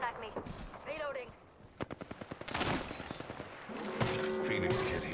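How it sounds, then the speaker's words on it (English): Rapid automatic gunfire rattles in a burst in the battle royale game Apex Legends, loud and near, mixed with voices speaking and sharp game effects around it. "Some floggers shooting at me."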